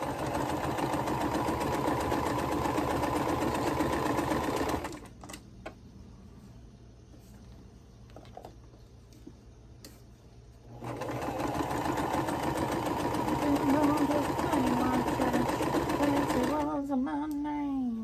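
A home sewing machine stitches quilt scraps for a postage stamp quilt, running in a steady fast whir for about five seconds, pausing through a quieter stretch, then running again at length, close and fairly loud.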